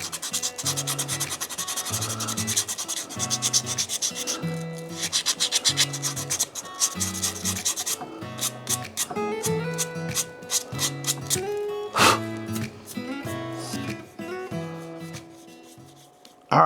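Repeated rhythmic strokes of sanding rust off the paint on a Harley, fast scrubbing passes close by with a sharper scrape near the end, no voices.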